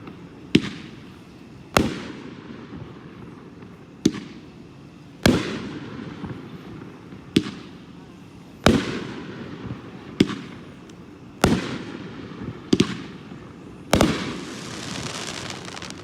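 A 500-gram, nine-shot rifle-series firework cake fires at a public show in Andover, Kansas: sharp, loud bursts, each ringing out with a fading tail, spaced roughly every one to two seconds.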